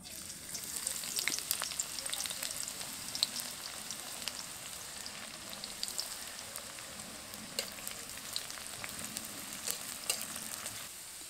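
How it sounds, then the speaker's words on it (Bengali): Chopped onions crackle and sizzle in hot mustard oil in a wok, fried until crisp and golden, a steady moderate hiss with small scattered pops and no talking. "এই পেঁয়াজগুলোকে বেরেস্তার মতো করে ভেজে নেব"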